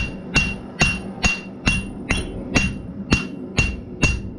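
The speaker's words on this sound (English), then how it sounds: "then you start hammering it right side and left side, up and down" A blacksmith's hammer strikes steel on an anvil while drawing out a bottle opener, nine evenly spaced ringing blows about half a second apart, loud and close with a metallic ring after each hit.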